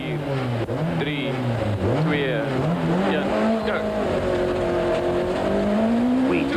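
Jan Habig's four-wheel-drive Golf Synchro rally car roars off the stage start at the 1993 Swartland Rally, engine revving hard through rising and falling gear changes with tire noise, close and loud, while a commentator talks over it.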